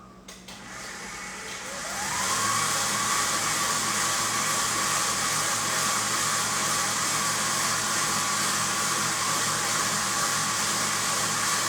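An electric mixer beats cake batter for a checkerboard cake, spinning up over about two seconds into a loud, steady motor whir with a constant whine that runs to the end, with no voices.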